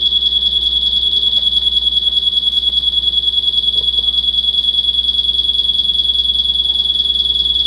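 A Bosch GRL800 20V rotary laser level emits a continuous high-pitched beep, steady and loud throughout with a faint rapid pulsing, over a low background hum.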